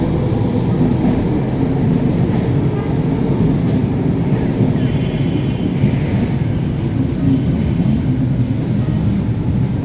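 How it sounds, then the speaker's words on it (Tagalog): Loud, continuous rumble of a train pulling into a station, steady rolling noise with faint clicks above, a voice briefly audible underneath. "ito na may paparating ng tren"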